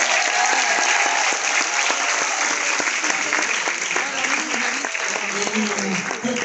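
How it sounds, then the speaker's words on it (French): A crowd at a Vendée Globe sailor's arrival applauds steadily, dense continuous clapping close by that holds throughout, with voices and scattered cheering mixed in. "Vous allez pouvoir l'applaudir encore une fois"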